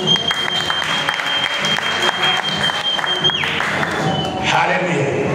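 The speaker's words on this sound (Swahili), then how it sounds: "Tumpigie Bwana Yesu makofi." A church congregation bursts into loud, continuous clapping that fills the room. A voice is heard over the applause.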